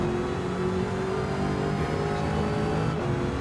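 Racing-game car engine at full throttle, climbing in third gear toward a left-hand corner, a steady loud harmonic whine that holds and bends in pitch as it pulls hard, alone without talk.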